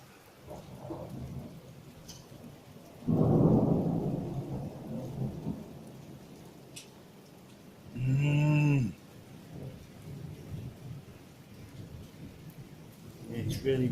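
Rain falling steadily during an electrical storm with lightning, a loud rumble of thunder rising midway, a voice briefly calling out near the end, and a closer rolling burst later over the ongoing downpour.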